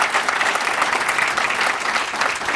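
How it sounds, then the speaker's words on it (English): A crowd at an anniversary celebration gives sustained applause for Gail Carmody, national president of the Student Conservation Association, with dense, steady clapping filling the whole stretch. "Give her a round of applause."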